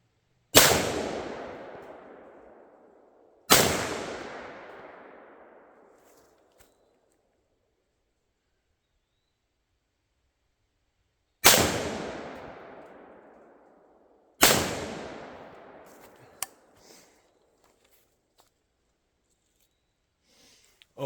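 Four loud, sharp rifle shots come from a Century Arms VSKA AK-47 on an outdoor range. Each crack is followed by a long fading echo, with the shots irregularly spaced across a quiet stretch.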